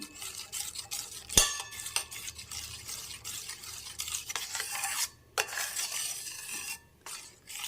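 Date cake batter with vanilla essence being stirred in a bowl, a close, steady scraping swish with a few sharper clinks of the spoon against the bowl, heard alone without any talk.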